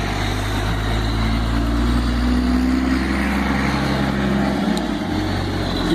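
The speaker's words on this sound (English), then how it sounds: "Loud ass truck." A loud truck engine rumbles steadily nearby with a deep, droning low-end hum, holding at a constant level before briefly dipping and shifting near the end.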